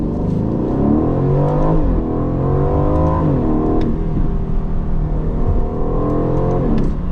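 A powerful 500-horsepower Aston Martin Vantage engine roars steadily, pitch climbing through several gear shifts as it accelerates hard, loud and close throughout.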